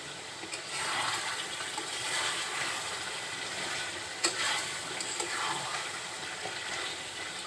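Mutton curry frying in a pot while it is stirred, giving a constant soft sizzle and scraping, with a sharp clink of the spoon partway through.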